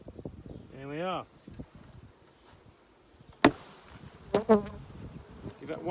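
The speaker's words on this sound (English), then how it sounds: "A lot of bees here" Honeybees buzz in brief wavering bursts close by at a hive while queen cells are harvested, with quiet rustling and a couple of sharp knocks, while a person speaks softly in the background.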